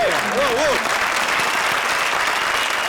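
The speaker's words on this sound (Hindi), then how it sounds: "जोरदार तालियां निगार और राजा के लिए।" A studio audience at a TV comedy show bursts into loud, steady applause, continuous dense clapping throughout, with a short vocal whoop or voice near the start.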